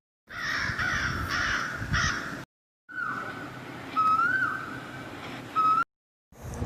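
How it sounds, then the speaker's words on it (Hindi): Several harsh crow caws come in close, loud bursts separated by short silences, with a thin whistling note sliding through the middle section. "कौवे का स्वर जो है कर्कश होता है, कड़वा होता है"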